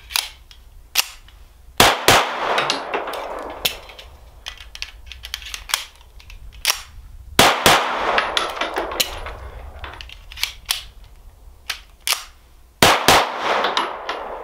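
A Springfield 9mm Ronin 1911 pistol fires sharp, loud single shots outdoors at an uneven pace, some in quick pairs, each followed by a short ringing echo, with no talking.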